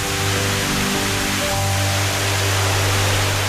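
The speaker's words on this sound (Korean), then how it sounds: "비무장지대에 숨겨놓은 자연의 선물 이온 폭포입니다." The Ion River waterfall in the demilitarized zone on the Israel–Lebanon border pours as a steady, loud broadband roar of falling water, with low hum in the background.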